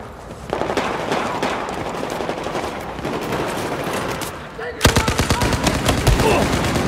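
Video game gunfire from an LMG and an assault rifle, dense rapid bursts of automatic shots rattling continuously, then a sharper, louder volley of evenly spaced heavy rounds near the end, all close and loud.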